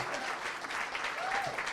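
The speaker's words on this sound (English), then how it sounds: "let's get a big round of applause for Eliza up here." Audience applause for a contestant at a Burlington Idol singing competition, a steady wash of clapping across the whole moment with a faint voice briefly audible.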